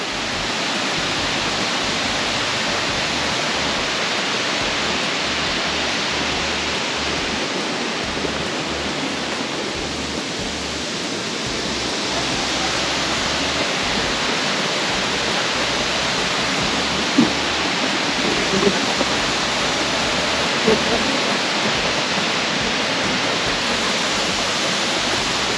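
A waterfall in a forest near a cave pours steadily, a loud, broad, unbroken rush of falling water that fills the whole stretch, with a few faint knocks near the end.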